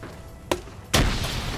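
Gunfire crackles in a large multiplayer military game battle set during the US invasion of Panama, two distant booming reports with a rolling tail, without speech.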